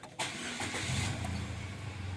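A 2010 Nissan March 1.2E automatic with a 1.2-litre three-cylinder engine cranks and catches after a short starter whir, then settles into a steady, close idle.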